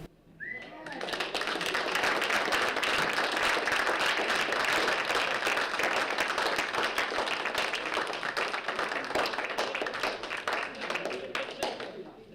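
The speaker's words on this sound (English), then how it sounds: "Another round of applause." An audience applauds at a multicultural heritage gathering, a full steady round of clapping that swells in quickly and holds at an even level for many seconds, close and dense.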